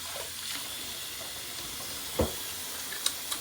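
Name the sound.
onions and mushrooms sizzling in a hot pot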